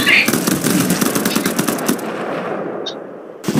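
An AK-47 fires rapid automatic bursts in the video game Garry's Mod, a loud close rattle of shots that stops partway through, followed by a quieter stretch and a brief click near the end.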